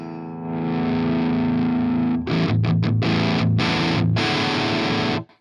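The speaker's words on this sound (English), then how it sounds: "this is the treble channel fully cranked, all the distortion we can get" A vintage guitar amp with its treble channel fully cranked roars with high-gain distortion: a sustained chord rings loud, then gives way to a run of choppy, stop-start chords before cutting off.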